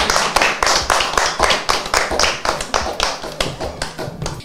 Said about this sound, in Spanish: un aplauso para la señora Clemencia.